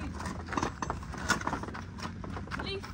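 Mare stamping the ground with her hoof, several irregular dull thuds and clip-clops close by, with a person talking over them.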